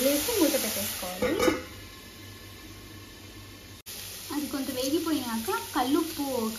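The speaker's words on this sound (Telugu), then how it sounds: "నెక్స్ట్ అల్లం వెల్లుల్లి పేస్ట్ కూడా వేసేసుకోవాలి. ఇది బాగా కలుపుకొని" Ginger garlic paste sizzles in a pan for a simple chicken curry while it is stirred, with a soft frying hiss and a few scraping strokes beneath a voice that talks through most of the moment.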